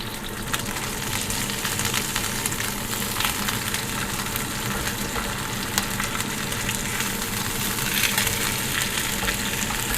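Beef chop steak sizzling in a generous layer of oil in a pan, a steady close frying hiss with crackles running throughout.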